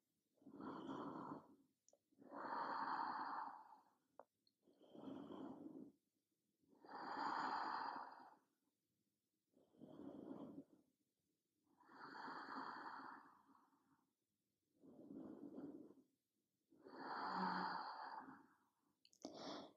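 Slow, deep breathing during a lizard yoga pose: eight long, soft inhale-exhale cycles, each a few seconds, evenly paced and close, with no talking.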